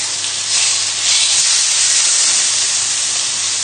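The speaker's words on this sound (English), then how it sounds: "we're just going to just leave that for 30 seconds in the pan, just to sear the other side" A cod fillet sears in a very hot pan, giving a loud, steady, close hiss of sizzling oil that holds unbroken from start to finish with no voices.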